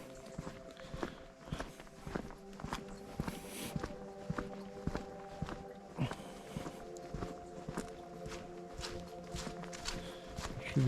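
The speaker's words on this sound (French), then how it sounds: "Je suis désolé pour les bruits de pas" Footsteps walking steadily down an asphalt slope, close and evenly paced, with regular shoe impacts continuing throughout over faint outdoor background.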